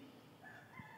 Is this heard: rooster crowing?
yes